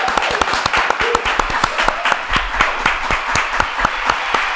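Crowd applause sound effect: steady, fairly loud clapping from many hands, continuous throughout with sharp individual claps standing out in a regular pattern.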